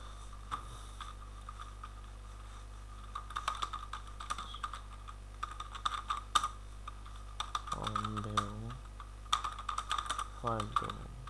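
Someone types a comment on a computer keyboard, with irregular bursts of close key clicks over a low steady hum, plus a couple of brief buzzing tones partway through.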